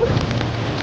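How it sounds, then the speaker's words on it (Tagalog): Loud, dense rain pours down in a continuous roaring wash, close and heavy. "Lakas ng ulan!"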